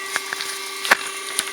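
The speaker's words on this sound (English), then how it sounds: "There's a really funny clicking sound coming from it." A 3D printer making a rotary engine's apex seals gives off sharp, irregular clicking noises, several close dry ticks over a steady faint mechanical hum, one click louder than the rest.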